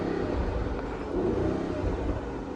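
A 2022 Mercedes-AMG GLE63S Coupe's V8 holds a steady, deep, loud engine roar close by, the revs staying high and even throughout with no voices.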